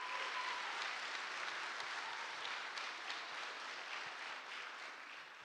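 A church audience at a Christian fine arts program applauding, a dense and steady wash of clapping that holds for several seconds and fades slightly toward the end, heard at a distance with no voices over it.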